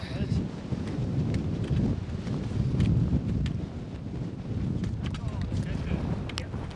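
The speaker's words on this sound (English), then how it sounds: "we headed back up over the summit, and that wind was blowing" Strong wind gusting across an exposed Cairngorm mountain summit in Scotland, a loud continuous low roar buffeting the microphone throughout with no let-up.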